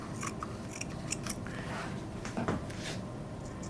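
Scissors snip through batting material for a velvet-lined stacking box, a string of short crisp cuts close by over low steady background noise.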